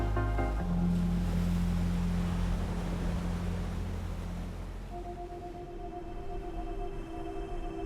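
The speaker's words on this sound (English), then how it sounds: "Either way, there's pumping waves." Ocean waves at The Box reef off Margaret River, Western Australia, roar in a broad, steady wash that eases slightly toward the end, while a faint tonal hum enters partway through.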